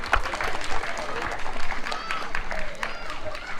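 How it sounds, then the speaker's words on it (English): Parents and students at a school felicitation programme clap together in a dense, moderately loud patter of many hands, with voices murmuring and talking underneath throughout. "I'd like to request all the parents and students to clap."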